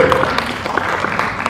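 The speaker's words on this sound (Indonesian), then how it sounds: "boleh kita beri tepuk tangan yang luar biasa sekali lagi" A press conference audience at a slow fashion event claps for the panel, a moderately loud but thin patter of hands with a few distinct sharp claps standing out from the wash.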